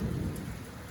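Steady rain and deep thunder rumble together in a summer thunderstorm near a lake, loud and close, with a heavy low roll fading slightly toward the end and no voices.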